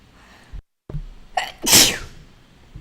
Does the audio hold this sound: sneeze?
yes